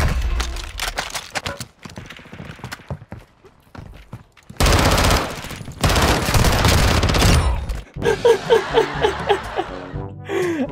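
Automatic gunfire from a Warzone 2.0 match, with rapid bursts and sustained volleys loud in the foreground, broken by short pauses, and a voice briefly chuckling near the end.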